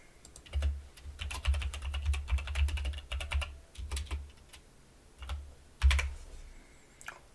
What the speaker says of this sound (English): Me over here typing tweets literally as we go.